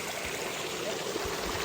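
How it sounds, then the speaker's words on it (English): A small waterfall spills off a rock face in Sierra National Forest, giving a steady, soft, far-off rushing wash with no breaks. "A nice little waterfall going off of this rock face here."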